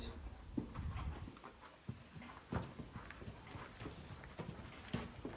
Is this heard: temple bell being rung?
no